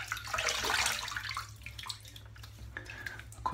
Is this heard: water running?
yes